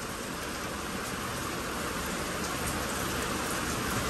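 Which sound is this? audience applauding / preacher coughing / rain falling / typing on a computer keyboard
rain falling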